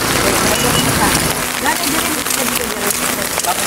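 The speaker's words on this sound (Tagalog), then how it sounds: "Ulan." Steady rain falls and patters on surfaces in a Northern Samar town, a dense continuous hiss with faint voices mixed underneath.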